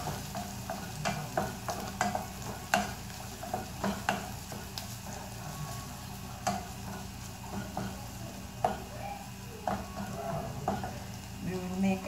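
Garlic fries in a pan for a macaroni and fresh tomato sauce, a steady close sizzle broken by frequent stirring scrapes and light utensil knocks throughout.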